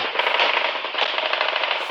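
Machine guns fire in a sustained, rapid rattle during an Afghanistan firefight on a combat video. The dense stream of shots stays loud and steady throughout, with no talk.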